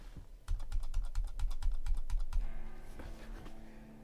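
Fingers type quickly on a computer keyboard in a close, even run of clicks that slows and softens toward the end, with no voices.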